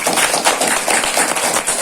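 A village audience at a product demonstration bursts into dense, loud clapping, many hands hitting at once in a steady, close, continuous burst with no voices over it.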